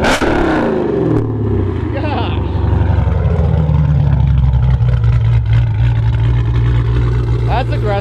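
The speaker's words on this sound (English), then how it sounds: "Exhaust you got on that bad boy?" A cammed 392 V8 with a Borla exhaust revs and rumbles loudly up close, a deep steady engine drone with speech weaving through it.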